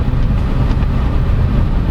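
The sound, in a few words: cabin engine noise of 2022 Mazda BT-50 3.0L pickup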